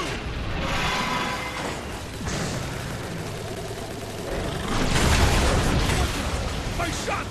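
Shots and blasts from the Transformers War for Cybertron Autobot campaign, a dense, continuous barrage of booming impacts and crackling fire. It swells louder toward the end, with a voice partly audible beneath.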